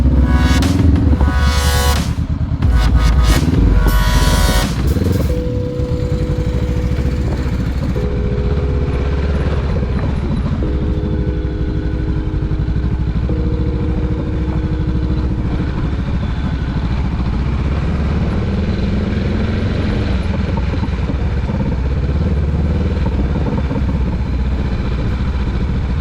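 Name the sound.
motorcycle engine riding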